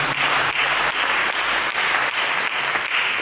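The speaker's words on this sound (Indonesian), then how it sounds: "Berikan tepuk tangan kepada Yesus." A church congregation claps steadily and loudly, a dense continuous wash of applause that holds for the whole stretch without pause.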